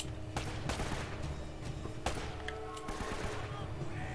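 Rapid gunfire from the Uncharted: Drake's Fortune video game, with bursts of sharp shots and automatic fire in uneven clusters, mid-distance, while a person talks over the combat.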